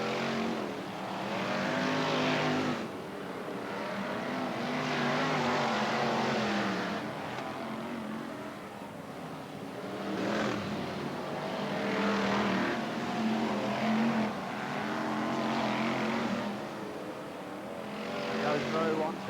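BriSCA F1 stock cars racing at Kings Lynn in a 1996 semi-final, engines roaring continuously with rising and falling passes, heard under a commentator's steady talk throughout.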